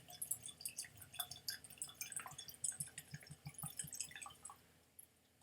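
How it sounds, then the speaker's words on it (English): Shelter Point whisky pours into a Glencairn glass, a faint, close trickle of liquid with small splashes and drips for several seconds before trailing off. "Now to pour this right in our clean Glencairn glass."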